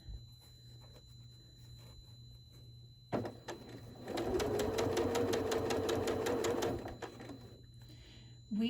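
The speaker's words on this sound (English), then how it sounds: "We're going to take a couple stitches and then we're going to adjust our fabric" A sewing machine stitches curved quilt fabric, starting with a couple of quick stitches and then running in a fast, steady whir with a rapid mechanical rhythm for a few seconds before stopping, close and fairly loud with no voice over it.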